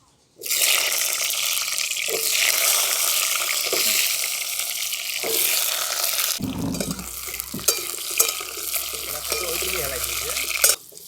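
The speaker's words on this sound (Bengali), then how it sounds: "আর এখানে আমি কেটে রেখেছি একদম নতুন আলু নতুন আলুগুলোকে ভেজে নিচ্ছি" Freshly cut new potatoes sizzling in hot mustard oil in a pan, a loud steady hiss with occasional stirring scrapes, followed by a deeper bubbling shift near the end.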